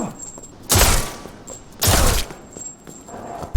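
Sniper rifle fired in the Resident Evil Re:Verse video game, two heavy booming shots about a second apart, each with a long roaring tail, followed by a softer sound at the end.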